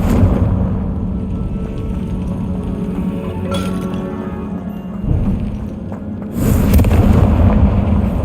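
Rumbling blasts and crackling debris from the Confringo fire spell in the video game Hogwarts Legacy, a loud continuous roar with a fresh burst near the end and no talk.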